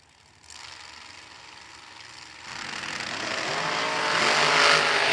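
A supercharged dragster launches down a drag strip, its engine roar building from a low rumble into a loud, harsh, steadily climbing blast with no talking.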